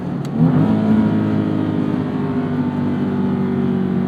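A 2012 Nissan 370Z or 2013 Scion FR-S sports car with an automatic transmission revs hard in second gear up toward redline, a loud sustained engine drone climbing in pitch without an upshift, heard alone.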